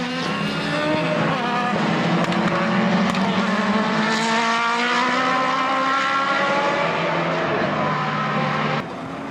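Formula BOSS racing cars at the Mondello circuit, engines screaming loudly and continuously with rising and falling revs and gear changes as cars pass on track, dropping slightly in level near the end.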